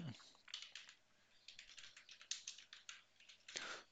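Rapid, light clicking of keys on a computer keyboard, typed in short irregular bursts close up with quiet gaps between keystrokes.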